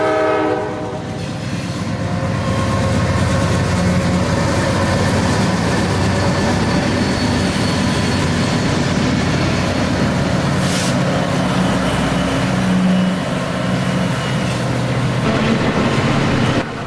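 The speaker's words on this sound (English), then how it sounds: "Directly behind the 65K was the New Jersey to Atlanta intermodal train 211" An intermodal freight train, the New Jersey to Atlanta train 211, rolls steadily through the Allentown yard with a loud continuous rumble, wheel clatter and a horn, no voices over it.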